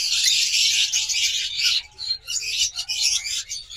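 A pair of pet lovebirds or cockatiels call close by, a shrill continuous chattering of high chirps that breaks into shorter bursts toward the end.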